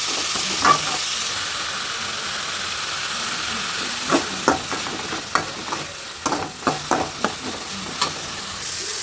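Green chili, ginger and garlic sizzling in a pan, a steady hiss broken by clicks and scrapes of stirring that grow busier toward the end.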